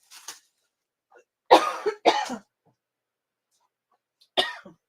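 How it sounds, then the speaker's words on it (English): A person coughs after drinking lemonade the wrong way: a faint cough at first, then two strong close coughs in quick succession, and another single cough a couple of seconds later, with no talking. "Now I'm gonna cough."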